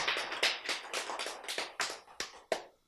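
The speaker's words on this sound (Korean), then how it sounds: "박수." A small group claps briefly in a Korean church lecture on the woman caught in adultery, a few seconds of close, uneven hand claps tapering off and ending with one last clap.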